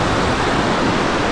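Stormy sea surf rolls onto a beach at Blagoveshchenskaya under strong wind, a steady, loud, unbroken roar of breaking waves with no voices.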